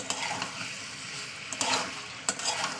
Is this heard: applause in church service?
no